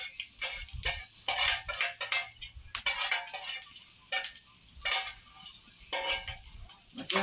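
A spoon scraping leftover food out of a cooking pot, giving repeated bursts of metallic scraping and clinking in an irregular rhythm, close and fairly loud, with brief pauses between strokes.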